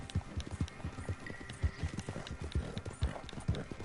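A horse gallops in the Red Dead Redemption 2 video game, its hooves striking in a quick, regular clip-clop rhythm that stays close and moderately loud throughout.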